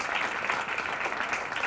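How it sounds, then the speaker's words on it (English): A conference audience applauds a panel with a dense, steady wash of clapping that stays moderately loud for the whole short stretch. "Please, let's give them a round of applause."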